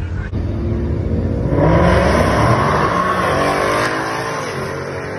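A supercharged 5.0 Ford Mustang with a 10R80 transmission launches down a drag strip, its loud engine roaring up and building into a sustained rumble before easing slightly as it pulls away.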